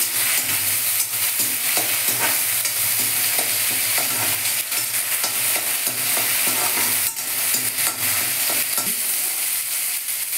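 A paste of ginger, garlic and onion fries in hot oil, a dense steady sizzle broken by frequent scraping strokes of a spatula stirring the pan, close and loud with no talking.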